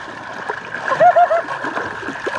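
Dishes being washed in seawater at a beach picnic, with a short burst of splashing and sloshing water, close by, amid low background noise and faint voices.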